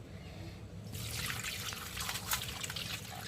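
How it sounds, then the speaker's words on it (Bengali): Rohu fish pieces are rinsed by hand in water in a home kitchen, giving a steady close trickle and splashing that starts after about a second and continues without talk. "তো এখন মাছটা ভালো করে ধুয়ে নেব।"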